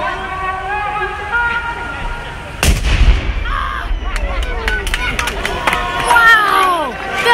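A single loud cannon blast booms out, followed by a crowd reacting with cheers and chatter.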